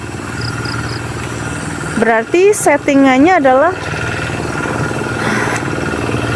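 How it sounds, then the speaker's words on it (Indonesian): A steady low tractor engine rumble drones throughout in a village, with a person speaking briefly over it in the middle. "berisik lagi ada traktor"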